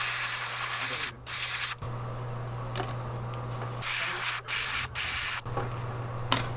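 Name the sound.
spray painting a fishing lure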